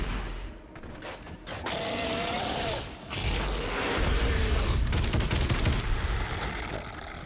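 Twin turrets fire in DOOM Eternal's ARC Complex, laying down dense bursts of heavy gunfire with mechanical clatter and crashes that build to a sustained, loud barrage over the last few seconds.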